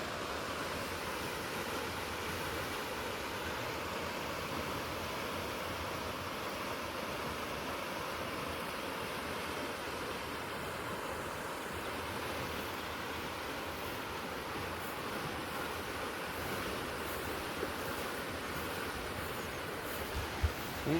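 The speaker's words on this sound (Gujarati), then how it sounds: "જો અહીંયા પાણી હાલતું થઈ ગયું" Fresh river water flowing steadily after rains, carrying driftwood along, heard as a continuous broad rushing wash at moderate distance with no voices.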